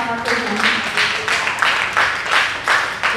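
Church congregation applause during an Indonesian testimony, heard as rhythmic bursts of clapping, roughly eight distinct pulses over a few seconds, with some voices underneath.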